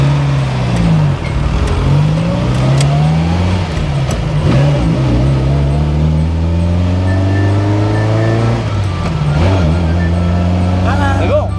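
A 1966 Fiat 1500 Cabriolet's engine rises and falls in pitch as it revs and pulls away on a hill start in traffic, loud and close, with rising harmonic sweeps and a brief dip before revving again.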